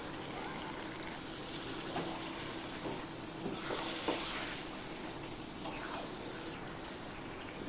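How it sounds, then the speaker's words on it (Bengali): Marinated goat meat sizzles in a pot, with a soft, continuous frying hiss broken by a few scattered clinks and stirring clatters, and no talking. "মেখে রাখা মাংসটা দিয়ে দেব।"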